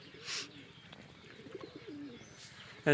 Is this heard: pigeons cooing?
yes